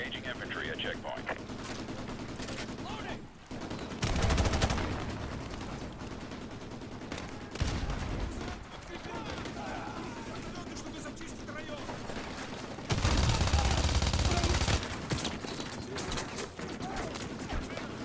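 Gunfire and explosions from Call of Duty Modern Warfare 2 during a checkpoint assault, with sustained automatic bursts and two loud blasts, near and heavy, under radio-style voice chatter.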